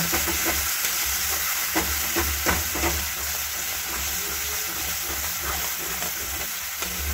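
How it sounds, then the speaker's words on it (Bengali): Tomato paste is stirred into a sizzling chicken curry masala with potatoes, a constant loud frying hiss broken by repeated spoon scrapes and knocks against the pan. "টমেটো বাটা দেওয়ার পর ভালো করে নাড়ি চাড়িয়ে নিয়ে নেব।"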